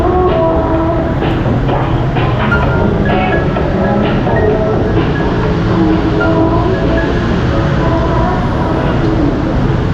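A light rail train runs loud and steady, with continuous rolling rumble and faint rhythmic rail clatter throughout.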